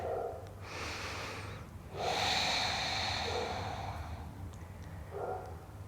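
Slow, deep breaths drawn in and pushed out through the nostrils during a hip flexor stretch in a flow class, a long airy inhale and exhale repeating close to the mic with no talking.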